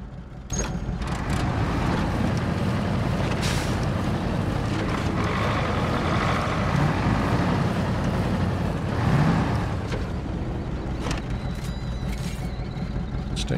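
A truck engine labours and drones steadily in the MudRunner game, a loud continuous low rumble with a brief surge near the end, no talking over it.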